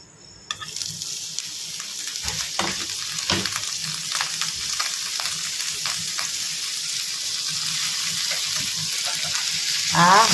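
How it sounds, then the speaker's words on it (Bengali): Chopped onion sizzles and crackles in hot ghee in a home kitchen pan, a steady close frying hiss that starts abruptly and grows slightly louder toward the end. "এই দেখো ঘি দিয়েছি ঘিয়ের মধ্যে এবার পেঁয়াজটা ভাজবো"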